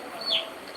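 Chicks for sale at a roadside vendor let out a single short, high peep, with faint background noise around it.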